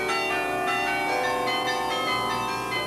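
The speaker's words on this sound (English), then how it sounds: "the smaller bells begin." The smaller bells of the Laura Spelman Rockefeller Memorial Carillon at Riverside Church ring in quick succession, with bright overlapping tones that sustain and blend at a steady loudness.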